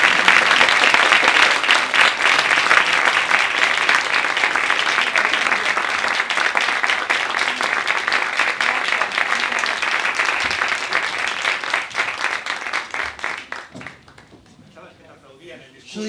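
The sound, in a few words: audience applause at a theatre talk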